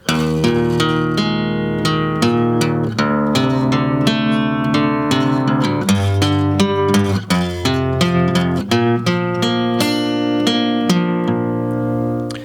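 Acoustic guitar playing a song's chorus, steady arpeggiated picking through power chords and inversions, bright and continuous for several bars with no voice.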